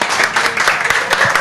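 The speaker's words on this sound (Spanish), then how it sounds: "chicas, aplaudir que le ha tocado el premio a la Noé" Studio or event audience clapping for a woman winning a 1,000-euro prize from a restaurant, a dense steady patter of many hands at moderate loudness with faint voices mixed in.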